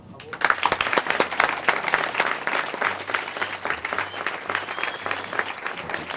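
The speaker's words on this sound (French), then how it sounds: "Merci de les applaudir." Applause from a studio audience for young apprentices on a French television programme, a dense sustained clapping that rises quickly and holds steady for several seconds.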